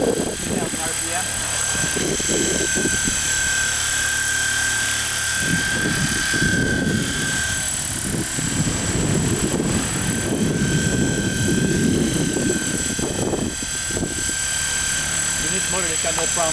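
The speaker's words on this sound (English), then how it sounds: "This motor has got no problems riding through the wind" Steady engine and propeller drone of an SX2 light aircraft in flight on a windy day, with wind buffeting rumbling underneath and people talking over it throughout.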